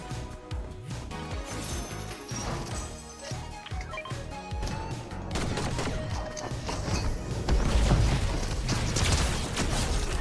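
Rapid pistol gunfire from a Fortnite match, dense bursts of shots layered over game music and effects, loud and continuous with a heavier stretch near the end.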